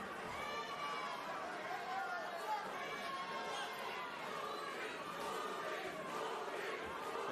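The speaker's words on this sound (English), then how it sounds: "The crowd getting a chant of Purin going for Caraballo." Boxing arena crowd at a professional fight chanting for a fighter, a rhythmic roar of many voices rising and falling across the hall, steady and somewhat distant, with a commentator talking over it.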